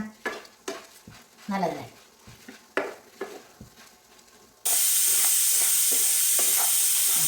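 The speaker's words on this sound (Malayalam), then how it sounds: "ഈ കഴുകിയ മല്ലി കത്തിക്കണം" Washed coriander seeds roast in a pan with scraping stirs and short rattling bursts, and someone says a brief word; a loud, steady hiss then takes over abruptly and fills the last few seconds.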